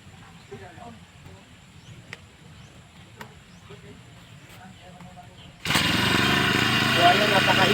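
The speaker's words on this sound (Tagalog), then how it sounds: "susubukan po natin kung marunong tayo gumamit itong grass cutter na to." A handheld grass cutter engine starts abruptly and runs loud and steady near the microphone, following a quiet outdoor stretch with scattered birdsong.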